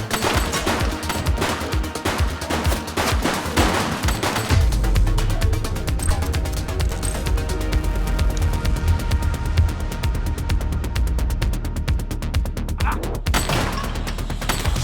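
Gunfire in the police video game The Precinct: rapid bursts of shots and automatic fire, loud and close, repeating across the stretch over a driving low musical score.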